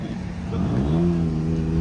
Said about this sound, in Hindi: गाड़ी पीछे भी आ रही है हमारे